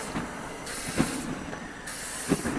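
Aerosol cooking spray hisses onto a barbecue grill in two or three short, moderately loud bursts separated by brief pauses.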